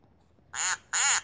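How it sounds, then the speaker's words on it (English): Two loud, bright duck quacks in quick succession, each about a quarter second long, standing alone against a quiet background, voiced in the style of a cartoon duck in a children's Bible story. "Quack, quack."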